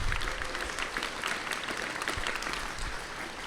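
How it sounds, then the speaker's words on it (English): Attendees at a research administrators' network meeting applaud, a steady wash of clapping from a modest crowd, fairly faint and even throughout. "let's give them a round of applause."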